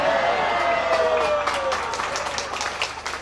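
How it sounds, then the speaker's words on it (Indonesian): An audience at an Indosiar television stage show claps and cheers in a sustained wash of applause, loud at first and slowly thinning, with a voice sliding briefly over the start. "Maklum tepukan tangannya paling kencang."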